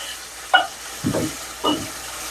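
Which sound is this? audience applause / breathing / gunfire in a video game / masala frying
masala frying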